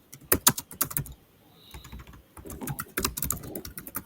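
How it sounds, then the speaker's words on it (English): Rapid, uneven keyboard typing up close, clacking keys in bursts with a brief pause midway, then resuming. "Who was typing away furiously during that?"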